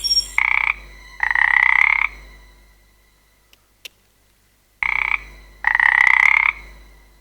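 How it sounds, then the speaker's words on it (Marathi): A frog in a forest at night croaks loudly and close in two bursts of rapid, raspy calls separated by a few seconds of near silence broken by a couple of faint ticks. "बेडकाचा आवाज आहे तो"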